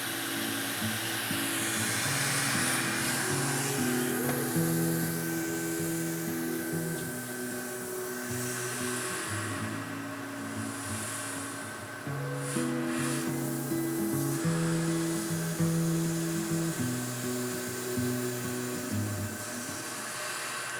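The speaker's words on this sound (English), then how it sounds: "I did not expect that to cut chocolate in just 2 passes." A Creality Falcon D1 style laser cutter burns through a slab of chocolate at full power, giving a steady fan-like whir with a droning hum that surges and dips as the head passes, continuous throughout with no talk.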